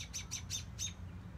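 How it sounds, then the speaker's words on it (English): A chattering bird calls in a city park, giving four short, bright chirps in quick succession over a low background rumble, with no talking. "This bird."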